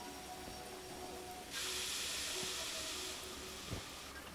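A broad burst of air hissing from video game train air brakes being dumped, during shunting, rises abruptly, holds steady for about a second and a half, then cuts off, over a low mechanical hum with a faint clunk afterward.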